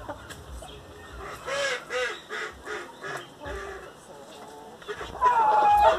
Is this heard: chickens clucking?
yes